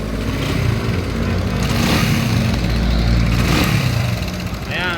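Loud, close Raider 150 motorcycle engine running with a rough, rattling mechanical clatter from a noisy timing chain, revving slightly, with a voice talking over it.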